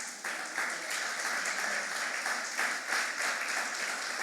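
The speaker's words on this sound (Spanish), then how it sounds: "Denle un aplauso a Cristo" A church congregation applauds during a Spanish-language sermon, with steady, dense clapping at moderate volume that continues throughout with slight swells.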